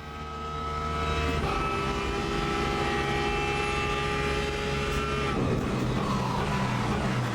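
A Porsche race car engine in the Le Mans Ultimate racing game, a loud sustained high-revving tone with steady pitch that shifts slightly as the car changes gear, close and continuous with no talk.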